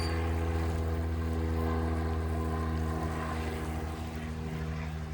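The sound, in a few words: airplane flying overhead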